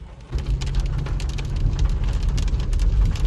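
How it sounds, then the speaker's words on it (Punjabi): Heavy rain pours down on an outdoor village fair in a loud, steady hiss that starts abruptly and keeps drumming on surfaces. "ਲੋ ਬਾਈ ਪੂਰੀ ਬਰਸਾਤ ਵੜ ਰਹੀ ਹੈ"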